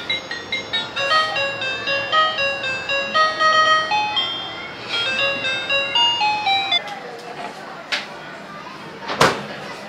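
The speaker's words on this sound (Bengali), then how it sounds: "এই আইফোনের রিংটোনেও নাচে।" An iPhone ringtone plays nearby as a bright, repeating marimba-like melody that stops partway through, followed by a few thumps and clatter.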